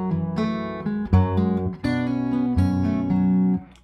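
Fingerstyle acoustic guitar plays the opening two measures of the Celtic tune Kid on the Mountain, bright plucked notes over open strings in a lilting rhythm, close and clear with no talking.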